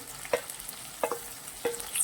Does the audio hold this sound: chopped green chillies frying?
yes